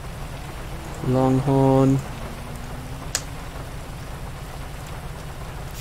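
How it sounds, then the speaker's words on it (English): Steady rain falls in the GTA V video game, a continuous hiss running through the whole stretch, with a short electronic tone and a brief spoken word partway through. "It's raining out."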